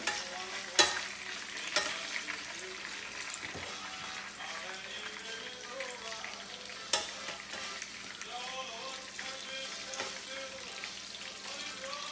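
Pork Milanese cutlets fry in a hot pan with a steady, close sizzle and crackle, broken by a few sharp spatters and clatters, and no voices over it.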